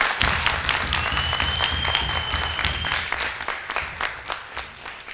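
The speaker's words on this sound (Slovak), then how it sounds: "Potlesk pre pani Helene." Audience applause for a speaker's wife at a live talk event, a dense burst of clapping from a crowd that holds steady, then thins into scattered claps near the end.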